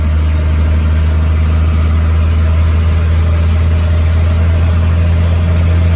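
A first-generation Cummins diesel truck engine drones loud and close with a steady low rumble as the truck runs through its gears, and no voices are heard over it.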